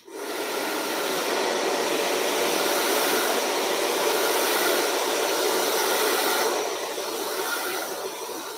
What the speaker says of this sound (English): Back in with a hairdryer. For this, I need the nozzle on. So I'd have high heat, low speed.